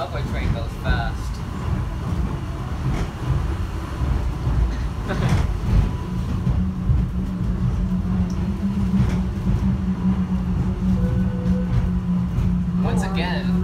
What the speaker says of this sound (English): When the subway train goes fast.